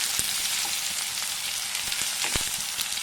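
Onions frying in a pan for mint pulao, a steady crackling sizzle with scattered sharp pops, close and continuous.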